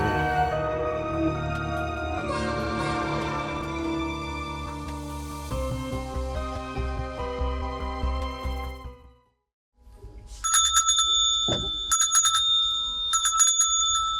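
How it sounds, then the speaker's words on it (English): A Yule bell in a fantasy village setting rings out three times with bright, sharp strikes, following a stretch of sustained music that fades to a brief silence. "as the Yule bell rings 3 times"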